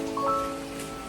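Rain falls steadily and softly during a snack-and-coffee stop, a short, even wash of patter close by with a faint hum underneath.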